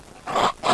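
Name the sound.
phone ringtone of dogs barking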